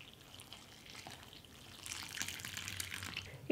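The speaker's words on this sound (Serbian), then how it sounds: "Dodat ću 320 ml vruće vode" Hot water poured into psyllium bread dry ingredients mixed with baking powder and salt, a quiet close trickle that swells into a fuller pouring splash over the second half, with a short knock at the end.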